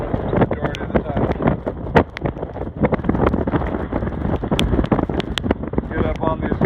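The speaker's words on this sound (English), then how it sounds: "If you can tell how windy this is what we've dealt with the majority of the time." Strong wind in the Alaska mountains buffets the microphone in loud, gusty rumbles with sharp thumps, steady and roaring throughout.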